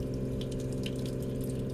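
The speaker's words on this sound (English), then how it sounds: "add water to all of the glasses On both sides" Water runs steadily into laboratory glassware being rinsed during a chip cleaning procedure, a constant close hum of flowing liquid with light splashy trickles on top.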